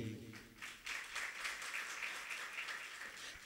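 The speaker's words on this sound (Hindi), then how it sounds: "ताली नहीं बजाओ" An audience claps through a religious discourse hall, with steady, moderately distant applause building after a brief murmur and continuing evenly to the end.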